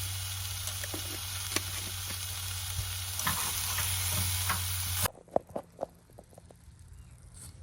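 Garlic and herbs frying on very low heat in a pan, a steady sizzle with occasional stirring scrapes, then the hiss drops away to quieter pops and taps near the end.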